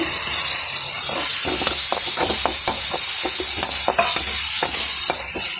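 Mutton spleen (suvarotti) sizzling in a pan with ginger-garlic paste, a steady loud hiss broken by frequent crackling pops throughout, with no voices.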